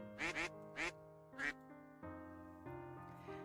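Ducks quacking in four sharp nasal bursts at close range, the first two in quick succession, then quiet with a faint steady hum.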